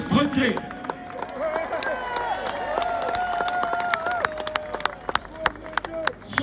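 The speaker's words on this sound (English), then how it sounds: "I want to give a massive round of applause to this man over here" A crowd at a political rally claps in a sustained round of applause with scattered cheers, sharp hand claps rising over a steady roar, while a voice carries on over the noise throughout.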